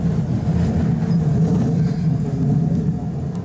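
A Hiroshima Electric Railway streetcar rumbles steadily at a tram stop near Hiroshima Station, a low continuous mechanical drone with faint clatter and no voices.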